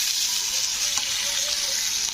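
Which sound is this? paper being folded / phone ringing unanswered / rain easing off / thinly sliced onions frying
thinly sliced onions frying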